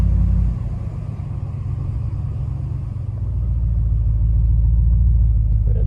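A Ram 1500 pickup truck fitted with 35-inch tires drives with the steering wheel turned to full lock, giving a steady low engine and road rumble that swells slightly in the second half, with no scraping.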